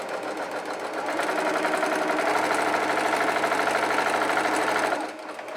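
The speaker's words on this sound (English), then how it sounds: "You're going to keep going and going and keep sewing them up like this." Sewing machine running steadily as it stitches a continuous chain of fabric face masks, a dense, even mechanical whir with rapid needle clatter that speeds up after the first second and holds for several seconds before easing off.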